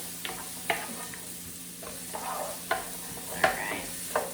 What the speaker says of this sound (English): Hear that sizzle? That's how you know it's ready.